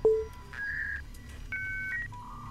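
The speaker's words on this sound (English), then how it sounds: "Oh, that dial-up sound though." Retro-style video game plays a dial-up modem connection sound during an alien abduction horror scene: a sharp tone burst followed by a series of steady paired beeps and warbling tones, moderately loud and alone with no talking.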